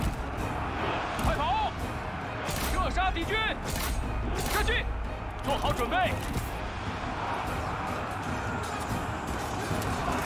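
Battle din from Total War: Three Kingdoms as archers come under fire, a dense steady roar of combat with repeated whistling, swooping arrow-like tones and impacts, while someone talks over it throughout.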